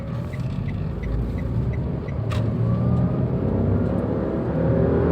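A Toyota Xenia fitted with an aftermarket Blackcore Ultimate turbo pulls away hard from a stop in second gear, its engine drone rising steadily and loudly with a brief whistle partway through, no voices over it.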